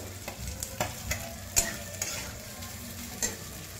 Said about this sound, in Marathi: बटाटा चांगला परतून घ्यायचा